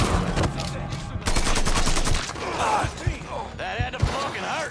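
Gunfire in the Mafia III video game rings out in loud rapid bursts of shots, with gruff voices shouting over the shooting and clatter.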